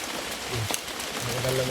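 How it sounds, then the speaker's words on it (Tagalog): Heavy rain with big raindrops falling steadily outdoors, a dense hissing patter throughout with faint background tones underneath. "Ang laki ng patak ng ulan mga idol."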